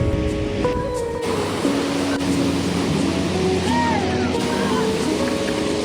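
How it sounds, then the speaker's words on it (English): Surf crashes on a Sydney beach with a strong current, a loud, continuous roar of breaking ocean waves nearby, with faint tonal sounds drifting over the wash and no talking. "The waves are crashing."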